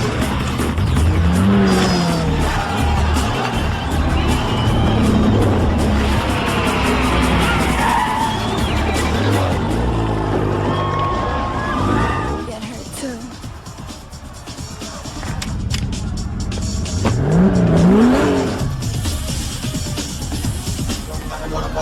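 Race cars from a Fast and Furious street race accelerate hard with roaring engines and squealing, skidding tires, loud and continuous with brief speech mixed in, easing slightly midway before another surge of revving.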